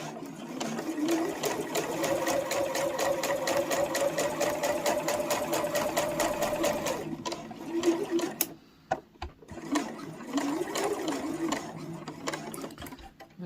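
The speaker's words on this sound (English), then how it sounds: "I'm just going to stitch this at about 1/8 of an inch" Sewing machine stitching a small boxed fabric pouch about 1/8 inch from the edge at a 3.4 stitch length, a steady close whirring run for about seven seconds, then short stop-start bursts with handling noises.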